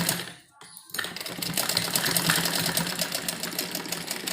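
Close by, a sewing machine starts after a short pause and runs in a steady rapid whirring rhythm while joining two pieces of a heavy suit.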